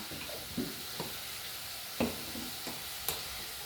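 Small shallots fry in a pan for chicken curry, a steady soft sizzle with a few faint stirring scrapes and clicks, no voices.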